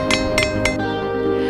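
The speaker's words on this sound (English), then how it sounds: "Our muscles use the food energy to hit a nail with a hammer." A hammer strikes a nail three times in quick succession, sharp metallic clinks over a steady background hum.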